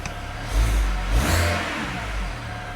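Car engine, reportedly with a wastegate issue, revving up twice in quick succession, each burst a loud rising roar over a steady mid-pitched idle, close by and with no talk.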